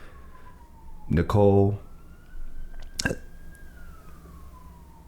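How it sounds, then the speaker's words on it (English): A siren sweeps past very close outdoors, with a loud passing wail and a rising and falling tone. Talk comes before and over it. "Can you hear the siren? I've never heard it that close."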